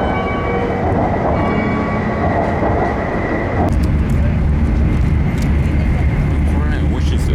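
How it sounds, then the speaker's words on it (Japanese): An express-type electric train passes a station platform in Japan, a loud rumbling roar that shifts abruptly midway as the cars go by, close and continuous. "おー、急行型電車だ"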